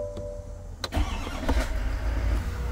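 A 2024 GMC Sierra 3500 AT4 pickup cranks and fires up, a brief starter whir and a couple of clicks giving way to a steady low engine idle, close by with no talking.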